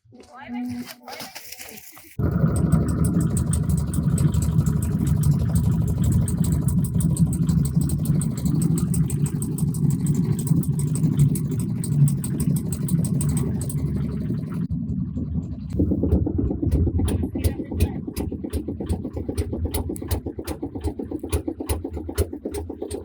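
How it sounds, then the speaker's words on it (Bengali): A rented trawler boat's engine drones steadily up close, a loud continuous mid-pitched chug on a wetland lake, starting after a brief moment of talk and running under a voice and other speech. "আমরা যে ট্রলারটি নিয়েছিলাম"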